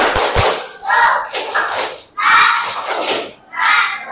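Schoolchildren in a classroom perform a spirit clap, loud rhythmic bursts of many hands mixed with group shouting, separated by brief pauses.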